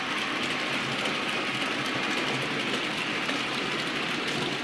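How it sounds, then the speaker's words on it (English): Steady rolling rumble of a Bachmann Class 55 Deltic model train running along its track through a points crossover, continuous and even throughout with a faint metallic hiss on top. "the big train just keeps rolling"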